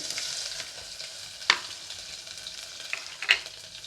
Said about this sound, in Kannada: ಇವಾಗ ಎಣ್ಣೆ ಬಿಸಿ ಆದ ನಂತರ 2 ಒಣಮೆಣಸಿನ್ಕಾಯಿ ಮತ್ತು ಸಾಸಿವೆನ ಮೊದಲು ಹಾಕ್ಕೋತಾ ಇದ್ದೀನಿ.